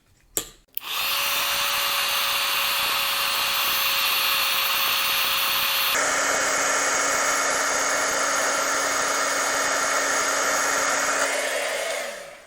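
A heat embossing tool blasting hot air over a card: a click, then a loud, steady fan whine that shifts pitch midway and runs for about eleven seconds before cutting off.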